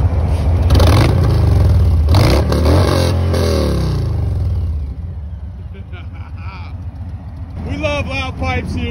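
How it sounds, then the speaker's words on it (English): A 2020 Harley-Davidson FXLRS Low Rider S engine revs loudly up close in several throttle blips, then settles to a lumpy idle, with someone talking over and between the revs. "So let me give it a little bit of gas. I want y'all to hear exactly what this thing sounds like."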